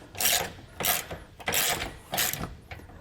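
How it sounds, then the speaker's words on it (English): A socket wrench ratchets on the nut of a leaf spring hanger on a travel trailer suspension, giving several loud bursts of rapid clicking close by, with short pauses between strokes. "use your socket wrench on the other side on the nut to break that off"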